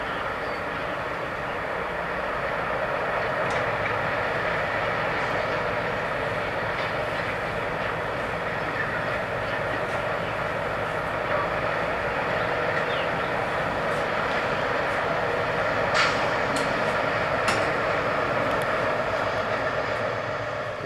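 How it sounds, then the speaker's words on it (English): A loaded freight train pulls out of the Immingham terminal along the departure line, giving a steady, continuous rolling rumble and hiss that holds at an even level throughout, with a few faint higher squeals near the end. "The train we see here has just been loaded and is leaving the terminal"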